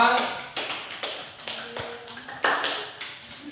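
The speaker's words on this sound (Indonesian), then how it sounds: "kita berikan aplaus untuk kelompok 2" A classroom of students applauds a presenting group with scattered, uneven claps and taps that come in sharp bursts, close and moderately loud, over a murmur of voices.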